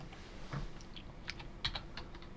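Quick keystrokes on a computer keyboard while fixing a Windows XP boot problem, a short run of light clicks with a couple of louder taps, close and alone over faint room hiss.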